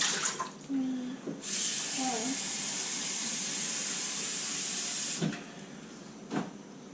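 Water pours steadily into a bowl in a continuous rushing stream for several seconds, with brief talk before and after.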